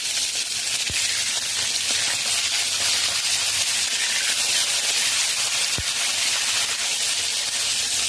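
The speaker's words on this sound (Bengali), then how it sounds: "সর্ষের তেল গরম হয়ে গেছে, মাছ দিয়ে দেব। মাছ হালকা ভেজে নেব।" Catla fish pieces coated in salt and turmeric frying in hot mustard oil, producing a steady, close, bright sizzle and hiss that continues without a break, with no talking.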